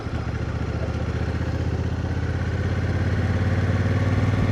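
A 2025 Honda Africa Twin Adventure Sport motorcycle rides along back roads, its engine droning loud and steady up close with a rising throb as it pulls away onto the road, no voices over it.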